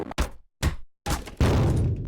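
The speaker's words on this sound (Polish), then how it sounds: "Drzwi wyjebałem" A door is smashed in a video game with several heavy, loud thuds in quick succession, separated by brief silences, ending in a longer crashing burst.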